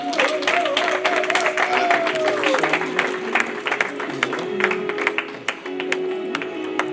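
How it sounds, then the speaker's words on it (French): Wedding guests clapping for the groom, a lively burst of close, crisp applause that stays strong throughout while a sustained musical tone plays beneath and a voice briefly sounds early on. "On peut l'applaudir, hein?"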